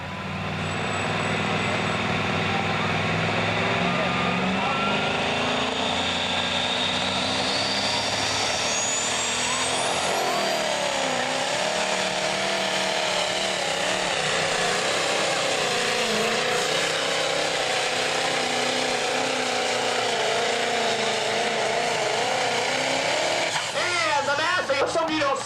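A loud, heavy Perkins-powered Massey super stock pulling tractor engine roars continuously and climbs in pitch, dominating throughout with a rising whine, as it powers up under strain at a truck and tractor pull.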